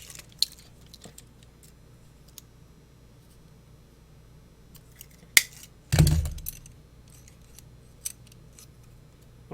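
Small metallic clicks and taps from fitting the faceplate onto an Adams Rite electric deadlocking latch, scattered through a quiet room, with a sharp snap and a heavier clunk close together partway through.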